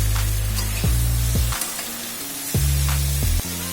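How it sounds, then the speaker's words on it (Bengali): Jackfruit pieces sautéing in a pan for a Bengali curry, a continuous sizzle with intermittent stirring scrapes and a low background hum, close and alone without speech. "সবজিটা ভালো করে কষানো হয়ে গেছে।"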